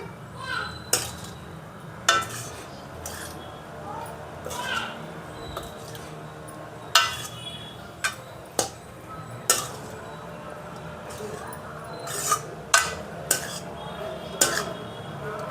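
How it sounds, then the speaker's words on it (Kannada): Hot cooked rice stirred into vegetables in a pan for vegetable fried rice, with a spatula scraping and knocking on the metal in an irregular rhythm and faint sizzling beneath. "ಇವಾಗ ಇದಕ್ಕೆ ನಾನು ಬಿಸಿ ಅನ್ನನ ಮಿಕ್ಸ್ ಮಾಡ್ತಾಯಿದ್ದೀನಿ"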